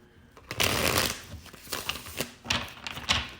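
Oracle cards are handled and shuffled by hand, with close, crisp riffling and flicking bursts in uneven rhythm, some short pauses between them, and no talk.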